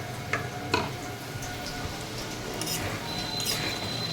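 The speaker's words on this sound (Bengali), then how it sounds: "তেল দিয়েছিলাম, গরম মশলা ফোড়নছি, ঘি দিয়ে হচ্ছে" Whole garam masala spices sizzle and crackle in hot oil and Gopal ghee in a pan, a steady close frying hiss with occasional sharp pops.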